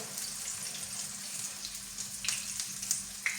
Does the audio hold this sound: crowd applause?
no